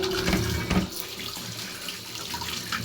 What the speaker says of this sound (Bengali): মূলা খোসা ছাড়িয়ে কেটে ধুয়ে পরিষ্কার করে নিচ্ছি।